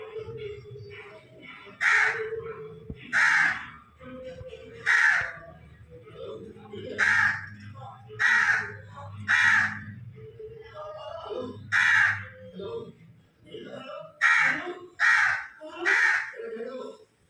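Crows caw loudly and close by in a series of about a dozen harsh calls, some in quick pairs and some spaced apart, with a voice talking at times underneath.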